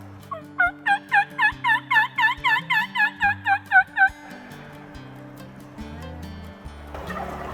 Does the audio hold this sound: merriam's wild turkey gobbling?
yes